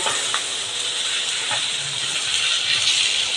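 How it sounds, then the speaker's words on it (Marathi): Rice dry roasting in a home-kitchen pan before rice with tondli and dalimbi is added gives off a steady, even hiss with faint crackle that runs unbroken at moderate level. "हे तांदूळ मी छानपैकी भाजून घेणार आहे"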